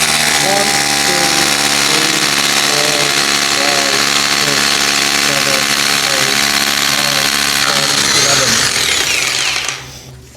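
A Bosch PBH 2000 RE SDS hammer drill pounds continuously into brick for about ten seconds, loud and steady with a rapid percussive rattle, then winds down at the end.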